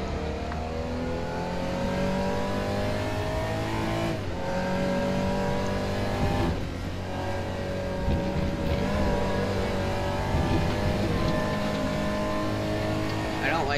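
Porsche 911 GT3 R race car in RaceRoom Racing Experience, engine revving up and down continuously through gear changes with a loud rising whine, a player talking over it now and then.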